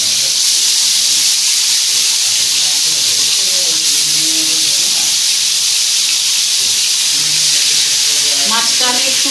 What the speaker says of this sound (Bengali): এবার আমি মাছটাকে ভেজে নিচ্ছি।